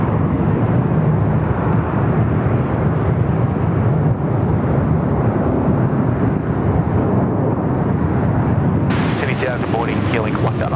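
Qantas airliner taking off from runway 34 right at Sydney Airport, a steady, loud broadband engine roar that holds throughout without letup, with a voice briefly cutting in near the end.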